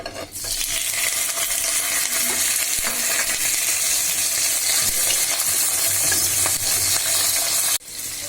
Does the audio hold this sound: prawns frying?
yes